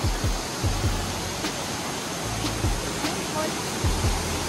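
Daranak Falls roaring as a steady, dense broadband rush of falling water heard from nearby, with people talking over it.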